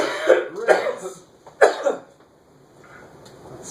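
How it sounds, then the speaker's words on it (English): Three or four harsh coughs close by, spaced out over a few seconds, followed by quiet. "I'm coughing"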